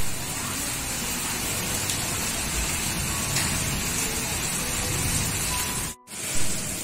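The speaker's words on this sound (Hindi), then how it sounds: "6 बजे से बहुत ज्यादा बारिश हो रही है" Heavy rain pours down in Delhi, a steady, dense hiss of falling water that continues without pause, briefly cutting out near the end before resuming; no one speaks.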